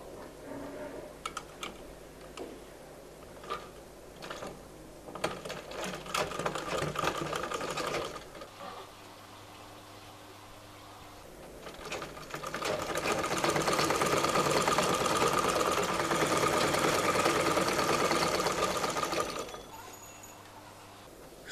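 An electric sewing machine stitches petticoat fabric in short bursts, then runs in a longer loud steady whir, with quiet pauses between runs and no talking.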